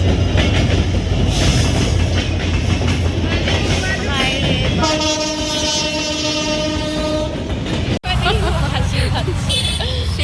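A train rumbles through a level railway crossing close by, loud and continuous, with a sustained horn blast partway through and a rhythmic rattling of wagons as it passes.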